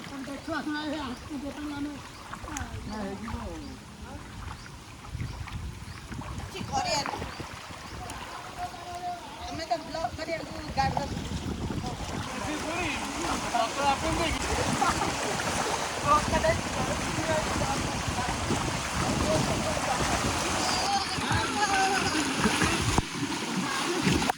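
Floodwater rushing across a road on the way to Ahiyas, a constant loud churning and splashing wash that runs throughout, with voices faintly mixed in.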